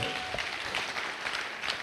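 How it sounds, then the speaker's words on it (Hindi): A crowd at a Safe Shop diamond celebration event breaks into brief, steady applause, a continuous wash of many hands clapping at moderate volume. "दोस्तों जोरदार तालियां होनी चाहिए भाई"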